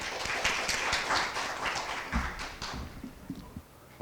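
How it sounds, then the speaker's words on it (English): Scattered applause from a seminar audience after a business presentation introduction, fairly faint clapping that thins out and fades toward the end. "Please give him a big round of applause."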